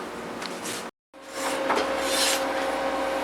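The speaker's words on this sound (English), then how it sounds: "Here's Garrett and Daddy doing some scraping of the seeds and flesh from the center of the pumpkin." A spoon rasps against the inside of a pumpkin, scraping out the seeds and flesh in repeated close, rough strokes, broken by a brief silent gap near the start.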